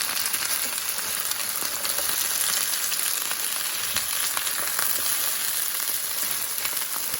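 Chorizo and potatoes fry in a pan, giving a dense, even sizzle that stays loud and unbroken from start to finish, with no clear spatula strokes standing out and no talking.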